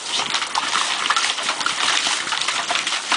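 Water sprays and splashes onto a dog on a hot day, a steady hissing gush with small splatters, close and fairly loud, continuing without pause and with no talking.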